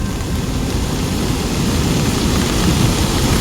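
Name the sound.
wind, thunder and heavy rain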